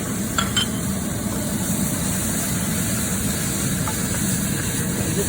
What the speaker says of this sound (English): So we'll just stir fry this a little longer.